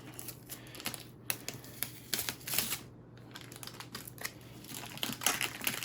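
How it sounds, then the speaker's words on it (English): Protective plastic film being peeled off a MayFlash F300 arcade stick, close up, with irregular crinkling crackles and short rustling bursts, no voices. "Let's do the unpeeling process together on video."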